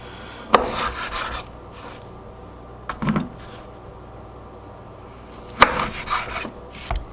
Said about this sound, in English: So now we're going to cut up our limes. We're just going to cut them up into fours